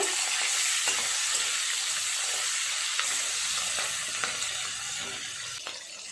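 Flipped fish pieces fry in hot oil with a continuous, bright hiss, dotted with occasional sharp pops and spatters, close and steady with no voices.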